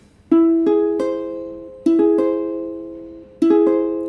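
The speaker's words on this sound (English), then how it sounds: "That is an augmented chord." An augmented chord on guitar, played three times as quick rolled strums, each note ringing out and fading before the next, with no voices.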